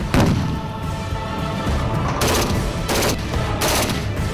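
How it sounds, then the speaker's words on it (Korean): Gunfire and blasts from a special forces demolition raid on an enemy command post at a tactical training ground: a loud opening boom, then sustained rattling fire with three distinct heavy bursts spaced roughly every second near the end. "폭파!"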